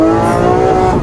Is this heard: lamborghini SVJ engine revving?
yes